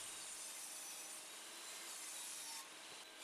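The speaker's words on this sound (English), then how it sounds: "Using a stop block, I cut all the maple dividers to length." Steady rasping of a saw cutting maple divider stock to length against a stop block, one continuous cut that is close and fairly quiet, with no talk.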